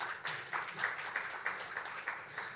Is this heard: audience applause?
yes